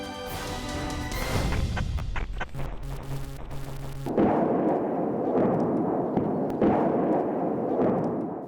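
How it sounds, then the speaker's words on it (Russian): A musical intro gives way to a loud, continuous roaring rumble from a burning ammunition depot in Urman, Russia, in May 2011, broken by repeated booming blasts and sharp cracks of exploding shells. "В воздух взлетел военный арсенал. В поселке Урман горит склад с боеприпасами. Взрываются снаряды."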